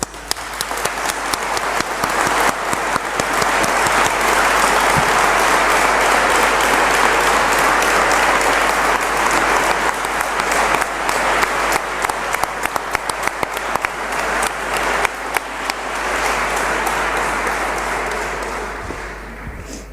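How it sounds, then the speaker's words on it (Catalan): An audience breaks into long, loud, sustained applause at a tribute to Leoncio Badía, the gravedigger of Paterna cemetery. Dense clapping swells and holds, then thins toward the end. "Os aplaudo yo a vosotros."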